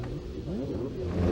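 A Porsche 935 race car engine drones loud and close in a brief burst, its pitch climbing steadily as it revs.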